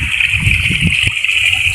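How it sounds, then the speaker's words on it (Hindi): Water gushing out from a running water pump motor, a loud, steady rushing splash close by with a constant hiss and a few sloshing pulses. "कितना तेज जा रहा पानी इतना"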